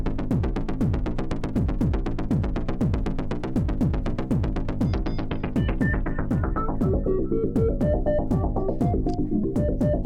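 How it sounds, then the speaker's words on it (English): A synthesizer pulses in rapid repeated notes, each with a resonant filter sweeping downward, then the sweeps give way to ringing whistly tones, steady and alone. "What you're hearing right now is only the filter resonance, so I have the resonance turned up quite a bit."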